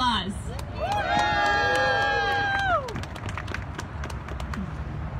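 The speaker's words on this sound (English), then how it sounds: "Let's give Lakeisha a big round of applause." Crowd at an outdoor political rally cheering and clapping, whoops and shouts rising loudly over applause before fading to scattered claps and murmurs.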